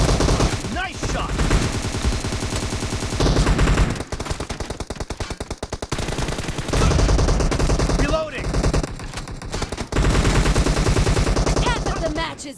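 Sustained automatic gunfire in a team video game match, heavy rapid bursts broken by short pauses and a quieter stretch, loud and close throughout with some voice sounds beneath.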